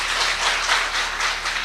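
Audience applause in a hall: dense, steady clapping from many hands, fairly loud and continuous throughout, with no talk over it.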